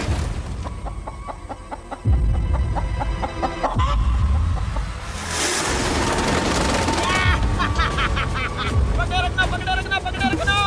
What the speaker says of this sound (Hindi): मुर्गी पकड़ ली।